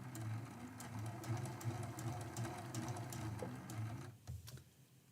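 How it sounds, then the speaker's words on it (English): A sewing machine stitching a quilt seam, a quiet rapid steady whirring hum with a light mechanical rattle that runs for about four seconds and then stops, with no talking. "I'm going to just sew right on that line."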